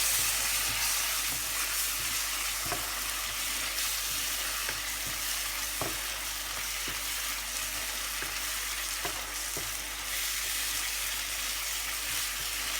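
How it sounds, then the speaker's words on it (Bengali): Cumin and coriander powders fry and get stirred in hot oil for Kashmiri alur dum, a steady close sizzle with occasional soft scraping taps of the spoon throughout, no voices. "এখন আমি এটাকে একটু ভালো করে নেড়ে চেড়ে মিশিয়ে নিচ্ছি"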